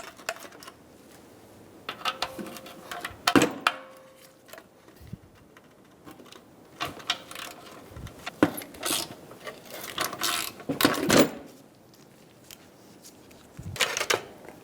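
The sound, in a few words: ratchet removing exhaust heat shield bolt, Ford Focus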